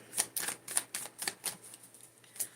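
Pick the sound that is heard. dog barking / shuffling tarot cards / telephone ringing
shuffling tarot cards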